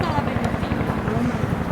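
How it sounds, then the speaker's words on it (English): Rhythmic thumping of a helicopter's rotor, steady and fairly loud, with a constant engine drone underneath. "a helicopter is flying over very slowly and hovering"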